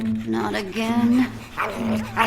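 Dogs growl and whimper in Minecraft Story Mode Season 2, with close, loud, tonal whines and low rumbles rising and falling over about two seconds.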